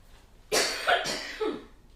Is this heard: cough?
yes